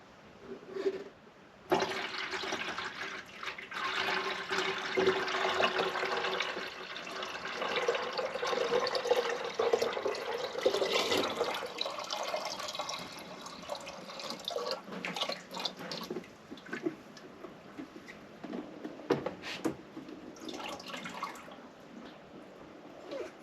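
Water poured from a countertop dishwasher's collection into its tank, a splashing, gurgling stream that swells and then trickles and drips away in broken bursts, close and moderately loud with no talking.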